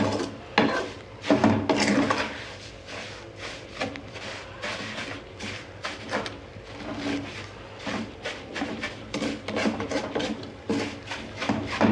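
Vermicelli browning in a pan for shahi zarda is stirred with a utensil, making rhythmic scraping and rustling strokes. The strokes repeat steadily and sit close and moderately loud, with no voices.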